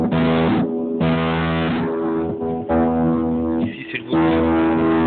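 A guitar amplifier's reverb effect sounds as sustained, distorted, harmonically rich tones ring out loudly in long held swells with brief drops between them.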